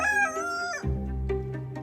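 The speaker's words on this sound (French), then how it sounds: "Roland demande à ce que Laetitia et Olivier se séparent de leurs coqs, en les vendant ou en les envoyant dans une ferme." A rooster crows loud and close, one drawn-out cock-a-doodle-doo over a steady low rumble, followed by a few shorter clucking notes.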